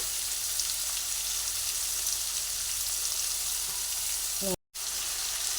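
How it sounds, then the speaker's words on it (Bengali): Potato and pumpkin pieces frying in hot oil, a steady loud crackling sizzle that fills the clip before a brief cut to silence near the end. "এর মধ্যে আলু আর কুমড়োটা ভেজে নিচ্ছি"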